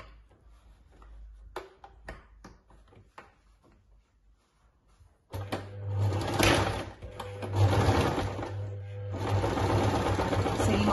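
A sewing machine stitches elastic and fabric ties onto the sides of a cloth face mask: soft handling clicks and taps first, then a loud, close, steady mechanical whirr for the last half.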